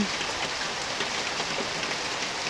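Steady rain falling outdoors in autumn, a continuous dense hiss of drops on surfaces with no pauses, fairly close and even in level throughout, with no voices.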